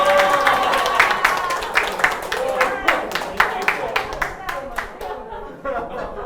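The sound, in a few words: audience clapping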